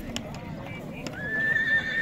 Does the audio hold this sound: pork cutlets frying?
no